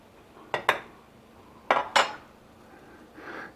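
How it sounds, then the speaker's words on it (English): A spoon scraping and knocking against a pot while stirring grain mash for small-batch brew-in-a-bag sous vide brewing, a few sharp metallic clinks in two pairs, close by, with quiet pauses between. "Stir in some more."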